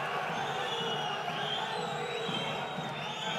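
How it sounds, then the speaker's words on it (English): A home crowd at a professional basketball game reacts to a referee's call with a sustained, distant roar of voices and whistling jeers filling the arena at steady loudness. "that the home crowd did not enjoy the call"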